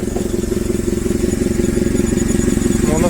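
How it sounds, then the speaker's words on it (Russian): A Nissan single-point-injection 4-cylinder petrol engine in a Japanese forklift idles steadily up close, with an even, rapid pulsing rumble and no talk over it. "такой вот двигатель работает вполне себе прилично"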